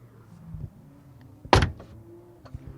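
The door of a Porsche 718 Spyder swings shut with one solid, close clunk, preceded by faint handle and latch movement and followed by quiet small clicks.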